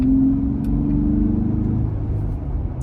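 Exhaust of a Jeep Gladiator fitted with an Airaid cold air intake during a slow turn, a close, steady low rumble that fades slightly, with no talking.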